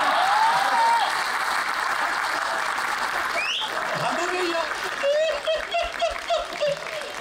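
Applause ripples through the crowd at a poetry recital held at a Delhi court complex. Brief scattered clapping and some chuckling come through amid talk and background murmur.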